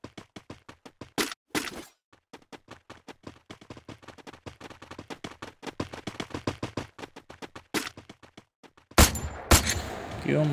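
Gunfire in the video game Free Fire, rapid bursts of sharp, close shots in a steady rattling rhythm with brief pauses and a few louder cracks, ending in a dense, noisy blast.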